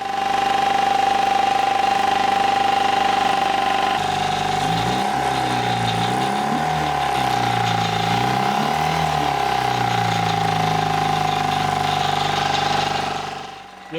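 Carbureted engine of a used project car running on its own at a rough idle, a loud steady drone whose low pitch sags and wavers as it begins to stumble, then fades out near the end.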